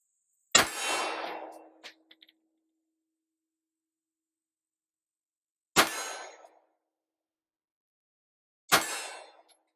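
A pistol fitted with a SwampFox Sentinel optic fires three loud, sharp shots at a target, each followed by a short fading echo. The first shot is followed by a faint metallic clink, and long silent gaps separate the shots.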